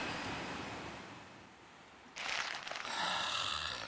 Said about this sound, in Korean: 파도 소리가 어때